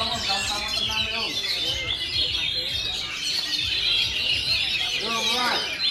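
A caged kacer (magpie robin) sings bright, varied chirping phrases close by, mixed with clucking fowl in the background while a person talks over it.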